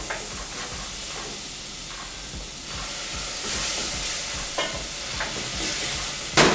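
Ukrainian borscht in a pot hisses and sizzles loudly as vodka is poured in to deglaze, with steady frying crackle, steam, and occasional stirring scrapes and clinks close by.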